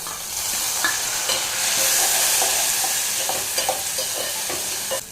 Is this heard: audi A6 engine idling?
no